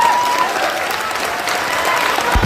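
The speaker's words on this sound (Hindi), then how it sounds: "अब भैया ये ताली बजाने का कोई कारण नहीं है।" An audience bursts into applause at a public speech, with dense, steady clapping from a sizeable crowd, loud and sustained.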